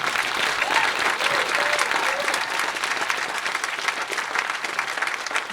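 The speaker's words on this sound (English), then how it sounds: "Please give my team a round of applause, Team Mitchell" A panel discussion audience applauds a staff team in a dense, sustained wash of clapping from a large crowd, fairly loud and even for the full stretch, with a faint voice or two mixed in.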